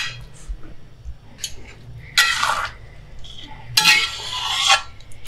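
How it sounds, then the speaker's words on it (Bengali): Spoon scraping and clinking inside a cooking pot while egg tadka is stirred, a few bright metallic scrapes in short bursts over quiet background. "এইভাবে নাড়াতে নাড়াতে 2-3 মিনিট এইভাবে এখন কষিয়ে নেবে"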